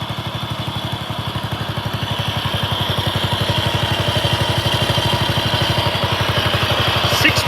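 Small engine of a 6x4 ride-on mower running steadily close by, a rapid, even putter with clattery mechanical texture that holds at a constant loud level throughout.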